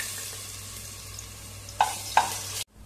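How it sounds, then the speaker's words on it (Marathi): Ginger-garlic paste sizzles and sautés in hot oil with bloomed cumin seeds, giving a steady frying hiss. Two brief stirring scrapes punctuate it before the sound cuts off abruptly. "आले लसणाची पेस्ट चांगली परतले."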